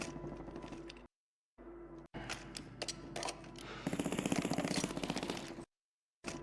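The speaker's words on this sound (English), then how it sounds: "I hear gunshots." Rapid bursts of gunfire in a video game, a clattering automatic volley with sharp repeated cracks, intermittent with brief silent gaps, fairly faint.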